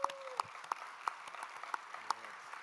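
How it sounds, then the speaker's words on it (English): Conference audience at a keynote, heard as sparse, evenly spaced single claps roughly every third of a second, fairly faint against a quiet room. "I think they need a big round of applause."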